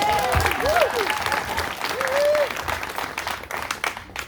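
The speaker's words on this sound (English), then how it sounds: "I think that deserves a round of applause." A crowd at an Oceanside City Council campaign event applauds, steady, dense clapping lasting several seconds with a voice or two rising above it.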